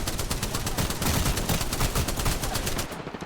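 Sustained rapid gunfire in Apex Legends aimed at an Octane jump pad: a dense, loud, continuous automatic burst lasting about three seconds, heard alone with no talking.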